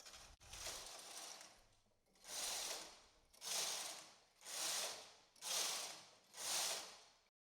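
Carriage of a knitting machine sweeping back and forth across the needle bed knitting rows, five loud rhythmic whooshing, clattering passes after a brief thud, each about a second long with short pauses between.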